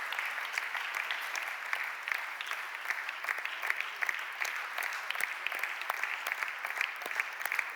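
Steady applause from a church audience, with many hands clapping continuously at moderate distance. It is fairly soft and even, with no voices over it.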